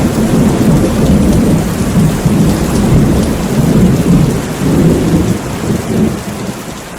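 Steady heavy rain pours on peepal leaves outside a window, with rolling thunder swelling and fading underneath, a dense continuous wash throughout.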